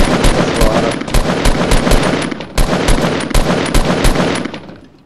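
A blue full-auto assault rifle fires in Fortnite Battle Royale: loud, fast sustained bursts of gunfire with a brief break midway, tapering off at the end.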